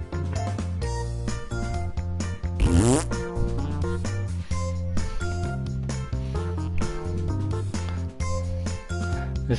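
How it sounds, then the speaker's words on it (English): Crude cartoonish fart noises from the party drawing game Drawful 2 sound over busy, continuous game music, with a louder squelchy burst near the middle standing out above the loop. "This game makes fart sounds."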